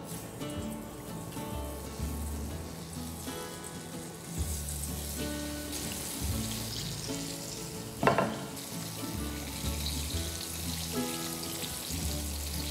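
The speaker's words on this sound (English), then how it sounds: "Now the oil is hot, so I'll be frying them." Pieces of atta bakerwadi, a spiced wheat-flour dough snack cut into roughly one-inch pieces, frying in hot oil with a steady close sizzle and bubbling, stirred now and then, with no voices.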